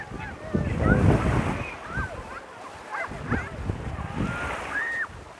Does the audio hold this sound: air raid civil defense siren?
no